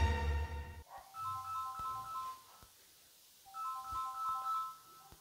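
A phone ringtone plays a short repeating melody twice, with a pause between bursts, fairly quiet, after a brief louder sound at the start.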